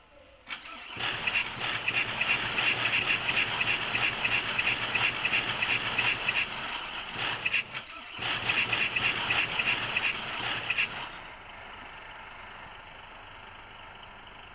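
A damaged new bus engine cranks and catches, then runs loud and steady for about ten seconds, briefly dips and revs again before cutting back to a low idle.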